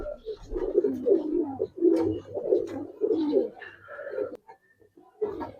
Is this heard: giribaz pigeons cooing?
yes